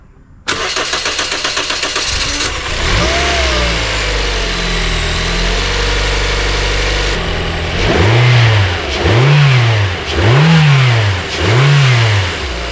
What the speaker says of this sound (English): we're going to start the car.